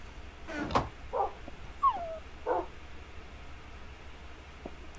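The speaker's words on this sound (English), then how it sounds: "Dogs are annoying now." Minecraft wolves in a survival world give a few short yips and whimpers, spaced out over a quiet background.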